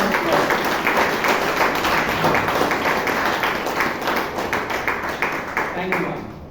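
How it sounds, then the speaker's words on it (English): A Toastmasters meeting audience in Bangalore gives sustained applause to welcome the general evaluator: a dense, even wash of many hands clapping that holds steady and then thins out near the end, with some voices mixed in. "Can I have a big round of applause?"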